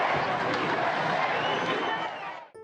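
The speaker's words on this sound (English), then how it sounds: "as the color guard begins to lower it, cheers and applause erupt" A crowd cheers and applauds as a color guard lowers a flag, a dense, steady roar of voices and clapping at close range that fades and cuts off near the end.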